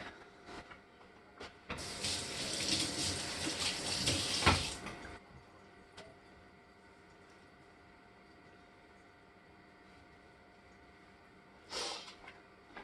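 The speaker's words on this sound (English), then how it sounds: "I'm going to wash my hands real quick" Hands are washed under a running tap, with a burst of splashing water lasting about three seconds, then a quiet stretch and a brief second gush near the end.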